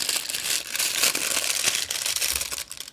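A plastic snack wrapper is crinkled and pulled open close by, producing continuous loud rustling and crackling for a few seconds with no speech.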